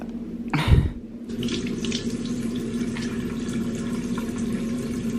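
Water runs steadily from a bathroom sink tap, a close, even splashing hiss that starts after a brief louder gush and continues for several seconds over a constant low fan hum.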